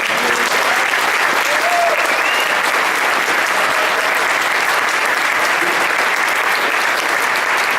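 A large crowd gives a big, sustained round of applause for a performing group at a homeless memorial service, dense and even clapping at full volume from start to finish, with no break.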